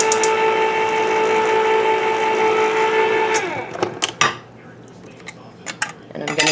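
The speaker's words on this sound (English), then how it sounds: "Now we're going to open up the cream of mushroom soup" A can of cream of mushroom soup is opened with a can opener, a steady whirring grind for a few seconds, then sharp metallic clicks and clatter as the lid comes free, close by and without talk.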